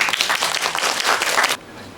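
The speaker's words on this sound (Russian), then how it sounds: "Поддержите их аплодисментами" Audience claps for small children about to perform at a Grandmother's Day event, a brief burst of steady applause lasting under two seconds before cutting off abruptly.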